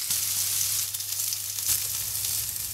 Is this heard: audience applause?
no